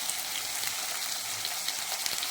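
Beans frying together with potatoes in a pan for a mixed vegetable dish, giving a steady, soft sizzle and crackle throughout, close and even, with no talking.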